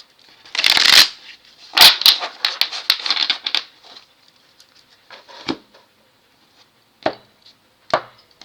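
A deck of playing cards shuffled by hand: a long dense riffle burst, then lighter flutters and crisp snaps, then a few isolated sharp card taps, close and clear with no talking.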